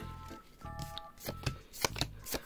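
Pokémon Scarlet & Violet trading cards handled while packs are opened: a string of short papery flicks and slides, close and fairly quiet, with a faint low hum underneath and no talking.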